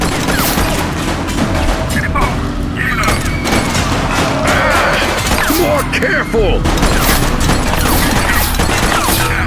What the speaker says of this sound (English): Gunshot! Evasive maneuvers!